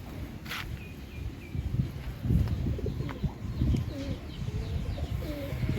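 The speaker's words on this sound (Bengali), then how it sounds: "এই যে একটা বাচ্চা আসিফের কবুতরের।" Domestic pigeons of the deshi golla breed coo softly from a loft, with low repeated calls and faint chirps over a steady background rustle and occasional movement.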